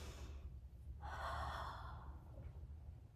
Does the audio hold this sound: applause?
no